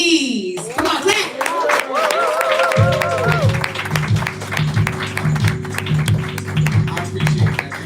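Audience at an open mic poetry night claps for a poet, a steady wash of hand clapping that swells after a brief opening with whoops and voices, continuing loud and sustained over a low rhythmic background beat.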